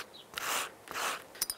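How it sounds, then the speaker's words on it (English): Garlic rubbed onto grilled bruschetta bread for a crab and broad bean topping, making two short, close rasping scrapes followed by small clicks. "Just gonna rub them with some garlic"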